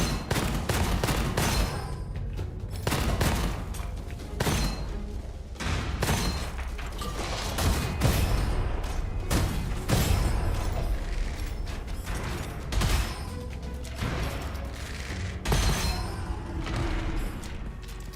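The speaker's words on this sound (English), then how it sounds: "Well, the freaking tiger cannon's pretty cool." Tiger tank cannon firing in a video game, a series of loud booming blasts repeating every second or two, mixed with mechanical clanking and creaking, no talking over it.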